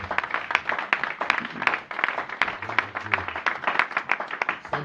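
A church congregation claps and applauds for several seconds, a dense, moderately loud patter of hand claps with a few louder slaps standing out and faint voices underneath.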